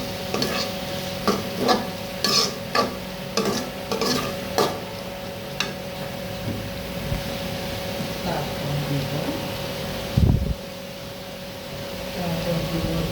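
Onion and garlic sizzle steadily in a pan while a utensil scrapes and stirs in repeated bursts, then pauses before a low clunk; a quiet background hum runs throughout.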